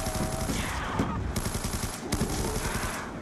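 An RPD light machine gun fires in a zombie-mode video game, with sustained, rapid bursts that run loud and dense through the whole stretch, with no voices over them.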